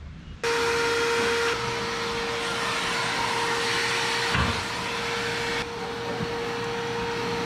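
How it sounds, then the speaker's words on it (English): A vacuum cleaner switches on abruptly and runs loud and steady with a constant whine, its pitch shifting slightly partway through, while cleaning out a 1964 Ford F100 pickup truck. "I'm gonna vacuum this out and hopefully he ain't still up there."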